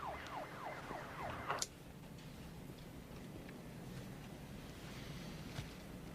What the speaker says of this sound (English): You hear that? Police siren.